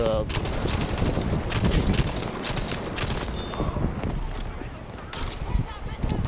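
Rapid bursts of automatic gunfire and shots in the video game Battlefield V, dense and continuous over game noise, with a person talking throughout.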